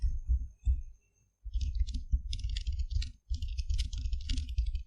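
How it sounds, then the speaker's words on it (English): Someone types a message on a computer keyboard, producing quick close bursts of key clicks separated by short pauses. "from here let's type the message"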